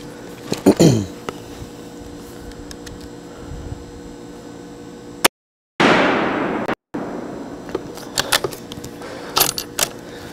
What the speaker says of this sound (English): Let's shoot a couple rounds down range and see what this thing will do.